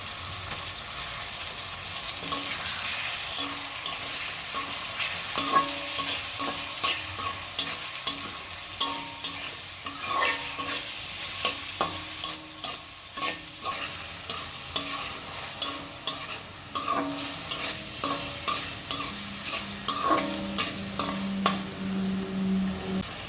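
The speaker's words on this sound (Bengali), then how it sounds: "এগুলো একটু ভেজে নিয়ে চিংড়িগুলো তেলের মধ্যে দিয়ে দিলাম" Shrimp frying in hot oil in a wok, a constant close sizzle broken by repeated sharp scraping stir strokes that grow more regular toward the end, with no talking.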